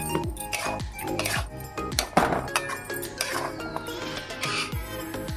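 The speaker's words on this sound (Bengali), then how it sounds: "এবার সবগুলোকে ভালো করে নাড়াচাড়া করে নেব" Metal spoon stirring and scraping chicken curry spices in a cooking pot, with repeated clinks, knocks and clattering against the pot in an uneven rhythm, up close and without talking.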